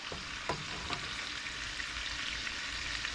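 A pork chop frying in a pan gives a steady close hiss and crackle of sizzling fat, faint overall, with a few soft pops and clicks.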